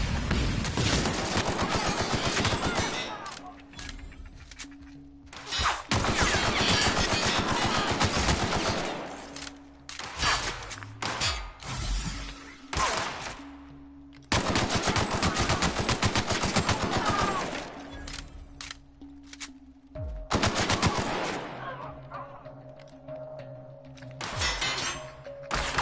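Sustained gunfire from The Outer Worlds video game, loud bursts of rapid automatic shots in long runs broken by brief pauses, with impacts and thuds mixed in across the fight.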